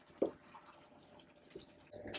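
Grease from a pan of browning lean meat is poured off, giving a few soft, close drips and small splats, quiet overall with a sharper spatter near the end.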